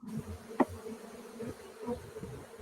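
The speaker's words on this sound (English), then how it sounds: "had our first swarm this year from our own yard" A swarm of honey bees in a home yard gives off a low, steady hum close by, broken by one brief sharper buzz as a bee passes near; no one speaks.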